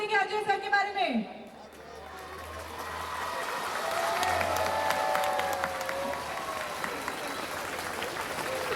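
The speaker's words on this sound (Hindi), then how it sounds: "इतनी तालियां बज रही हैं आपके लिए" Audience applause at the CWC 41st Annual Day Function for Ajay Kaul, a broad sustained wash of clapping that swells after an opening burst of voices, with a low hum beneath.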